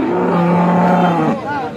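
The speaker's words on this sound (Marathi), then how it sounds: "आपण पाहू शकता अतिशय सुंदर गाई आहे. पहिला रू गाई आहे. एचएफ जातीची गाई आहे." An HF breed cow at a busy cattle market gives one loud, close, drawn-out moo that dips and wavers at the end, with a murmur of the market around it.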